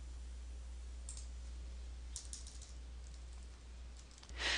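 Computer keyboard keys are pressed for a shortcut, giving a few soft, scattered clicks over a steady low hum in a quiet room.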